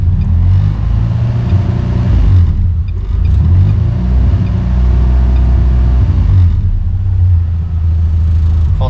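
Ford Fiesta engine with no idle and a lean intake running on a dynamometer: a loud, steady low rumble with uneven surges and dips that sputters as it falters, with no talk over it.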